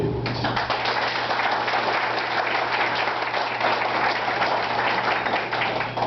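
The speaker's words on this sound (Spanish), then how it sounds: "primero pido un aplauso para ustedes" Audience applause fills a hall at a parenting talk, a dense, steady clapping that runs loud and continuous throughout.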